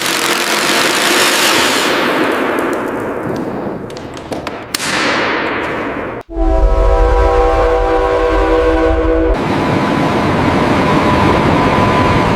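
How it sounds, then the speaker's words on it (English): A train running through the Channel Tunnel gives a loud, continuous roar of wheels and engine, then cuts abruptly to a sustained tonal drone with a low rumble underneath. "The first train runs"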